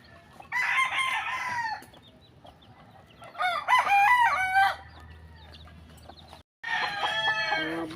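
Several roosters crow loudly on a farm, three long calls in succession with clucking hens in the background, briefly broken by a moment of silence.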